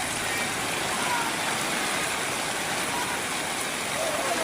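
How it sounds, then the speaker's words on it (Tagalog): Fairly heavy rain pours down in Valenzuela, a loud, dense and unbroken wash of hiss and splatter, with a faint voice in the background. "medyo malakas yung ulan"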